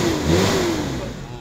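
A 1994 Toyota Kijang engine revs up close, a mid-pitched rising roar that swells and then eases, with voices speaking faintly over it.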